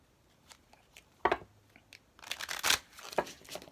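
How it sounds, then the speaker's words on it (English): Tarot cards are shuffled by hand in short riffling bursts, a soft flutter and then a longer, louder run of snapping card edges, close up with no voice over it. "So, I'm going to shuffle 3 times for you guys."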